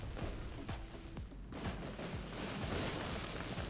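Fireworks go off in the Surviving Mars video game as a string of sharp pops and bursts over a constant rumbling wash, with a brief whistling tone near the start.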